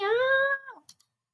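Cat giving a single clear, close meow lasting about half a second and trailing off, followed by a couple of faint soft clicks in an otherwise quiet room.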